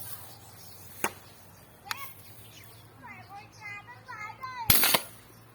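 A homemade gun fired at a target about ten metres away, two sharp short shots followed by a louder, harsher blast near the end, with birds chirping faintly in the background.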